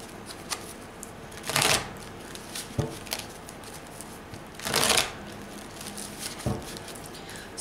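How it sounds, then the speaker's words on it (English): Energy Oracle card deck shuffled several times close up, with bursts of riffling at a steady pace and soft taps and card handling in between; no talking. "the next card deck we're going to look at is the Energy Oracle, and I'm going to go ahead and shuffle a few times"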